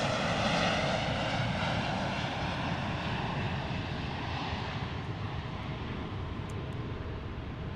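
An Embraer E-175 jet in retro livery takes off, its engines producing a loud, broad roar that fades gradually as it climbs away, with no talking.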